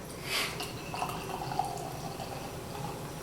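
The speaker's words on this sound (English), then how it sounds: "It pours nice. It's fizzy." Sixpoint Hootie Hazy IPA beer pouring into a glass, a soft liquid splash and fizzing hiss that settles into a steady, faint bubbling, with no voices.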